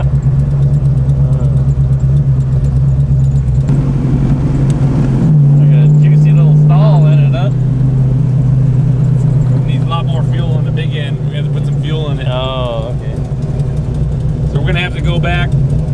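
A 610 hp 1970 Chevelle engine drones loudly and close during a street test, with a deep, steady roar that shifts in pitch partway through as voices talk over it.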